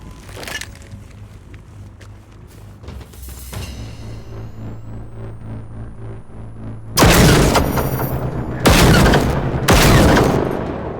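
Bursts of loud gunfire ring out in quick volleys in the video game Generation Zero, with booming shots and scattered clatter, set against game background sound and a rising whine as shots hit a drone.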